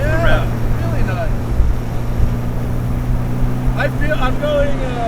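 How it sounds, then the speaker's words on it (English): Engine of a 1967 Alfa Romeo Duetto 1600 revs steadily from inside the moving car, with speech audible over its constant drone. "This is this is a delightful engine to rev out."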